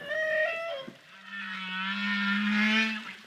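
A male humpback whale sings its courtship song off Tahiti, captured underwater by hydrophone: long sustained moaning tones with rich harmonics, sliding up and down, loud and continuous with no talk.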